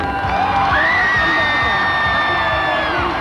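A large pageant audience at the Miss Universe 1996 contest cheers loudly for Miss Mexico, a dense, continuous roar of shouts and whoops that holds strong and steady throughout.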